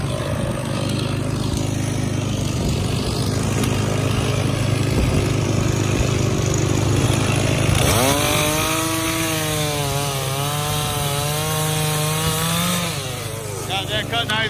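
A chainsaw cuts through a large standing dead tree for firewood, its engine droning loudly and steadily, then rising and wavering in pitch as the bar bites through the wood.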